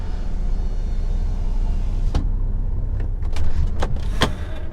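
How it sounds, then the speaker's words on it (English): An HGV truck cab's electric window winds up over a steady idling engine rumble, followed by a few short clicks and knocks near the end. "Just do my window up"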